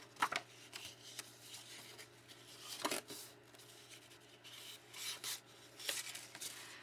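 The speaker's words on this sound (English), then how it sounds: "Now you can fold on all of those score lines." Paper matchbook being folded along its score lines, with several soft crinkling rubs and creases spread through the stretch, faint and close, with no talk.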